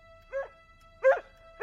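Three yapping barks from a cartoon dog, spaced about half a second apart with quiet gaps between, clear and close with no talk over them.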